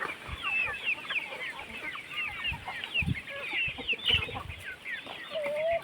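Chickens on a poultry farm kept in an arecanut plantation cluck and murmur in overlapping bursts, several birds nearby calling at moderate volume over a quiet background.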